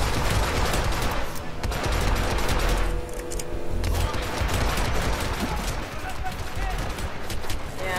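Dense, continuous automatic gunfire in the PS3 game Hitman Absolution, loud and unbroken bursts filling the whole stretch with only brief dips.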